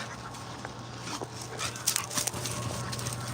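A dog whines and whimpers softly in short high bursts during a dog training session, faint against steady room hum and low background noise.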